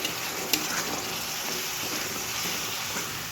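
Onion, ginger and garlic paste frying in hot oil for a Bengali prawn curry, a steady close sizzle with a faint scrape near the start.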